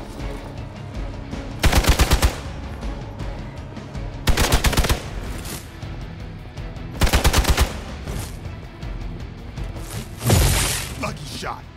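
Machine-gun bursts in the Marvel Midnight Suns video game, three loud rapid rattling volleys spaced a few seconds apart over a low game soundscape, followed by a heavier crash-like impact near the end.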